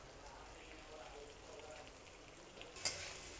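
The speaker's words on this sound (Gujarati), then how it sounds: "પાંચ મિનિટ તેલમાં સતડાઈ જાય" Vegetable Manchurian with carrot and capsicum sautés in hot oil, a soft steady crackling sizzle at low level with a faint clink near the end, and a voice talking quietly over it.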